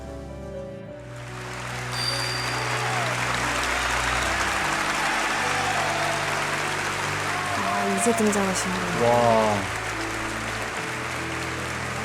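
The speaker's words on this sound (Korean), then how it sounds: "이 기립박수가 무려 12분 진행이 되었어요." Standing ovation for Charlie Chaplin, a dense, sustained roar of crowd applause filling the space, with a voice speaking over it.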